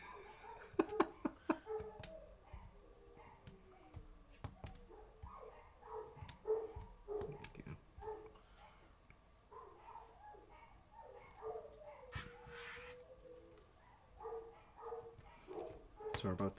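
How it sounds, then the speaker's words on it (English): Dogs somewhere nearby bark now and then at low volume, with short yips and whimpers scattered between quieter stretches. "Sorry about the dogs."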